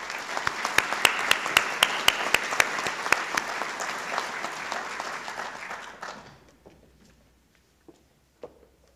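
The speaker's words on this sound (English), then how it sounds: "Let's give them a round of applause." Audience applause at the North Carolina Governor's Award for Excellence ceremony, a full steady wash of clapping with a few sharp nearby claps, fading out after six seconds into near quiet with a couple of stray thumps.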